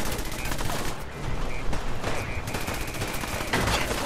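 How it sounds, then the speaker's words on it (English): Cannons boom in a dense, continuous barrage of heavy blasts in Fallout 4, one firing right after another with no quiet gaps. "we just gonna keep firing these cannons"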